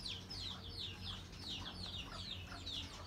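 Chickens in a chicken cage on a farm in Moncada, Tarlac, Philippines, cluck and chirp faintly in a quick repeating series over a low background hum, with no voices.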